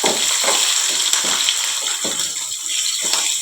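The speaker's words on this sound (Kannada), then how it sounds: "ಮೆಣಸಿನ್ಕಾಯಿ ಎಣ್ಣೆಯೊಳಗೆ ಫ್ರೈ ಆಗ್ಬೇಕಾ" Green chillies fry in hot oil with a steady, close crackling sizzle, dotted with small spattering pops throughout and no voices.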